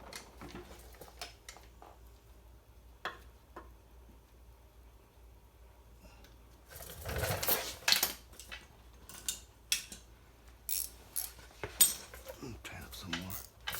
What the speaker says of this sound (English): I tighten up the 14mm socket bolt.